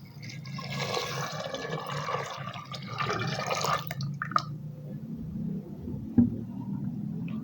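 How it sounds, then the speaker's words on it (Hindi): Water poured from a jug into a pot of lentils for achari dal, a steady splashing gush for about four seconds, then quieter trickling and a small knock. "अब 1 जग के बराबर इसके अंदर पानी शामिल कर देंगे"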